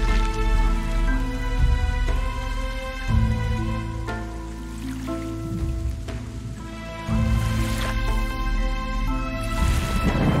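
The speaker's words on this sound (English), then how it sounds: "Oh, that's rain." Steady rain falling in the video game Darkarta, a continuous hiss under layered game music that holds through the whole stretch, with no voices.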